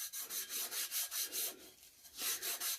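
Glitter rubbed by hand onto a tack-it coated tumbler, a steady series of rhythmic scratchy rubbing strokes, close and fairly loud, with no voices.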